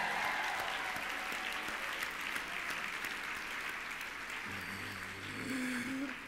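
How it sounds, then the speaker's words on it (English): Sustained audience applause at an awards event, a dense even wash of clapping from a large crowd, heard from some distance, with faint tonal hum near the end. "give them one more great big round of applause"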